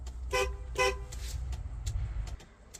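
The small horn on a Kenworth 18-speed truck gives two quick, close toots over the low rumble of the idling engine, heard from inside the cab.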